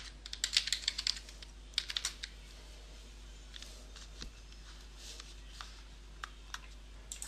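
A search is typed on a computer keyboard: quick bursts of close key clicks early on, then slower, scattered keystrokes trailing off.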